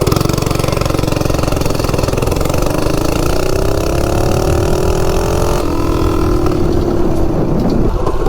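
A Baja Warrior minibike engine revs up hard from a standstill to 30, its loud buzzing drone climbing steadily in pitch, then dropping briefly as it shifts and pulling on again, close and constant.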